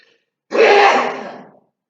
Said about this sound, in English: Woo, I'm going to sneeze.